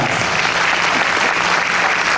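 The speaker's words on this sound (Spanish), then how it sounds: "Y que sigan los aplausos, por favor" Loud, dense audience applause at a Paraguayan harp festival concert, continuous clapping filling the room without pause.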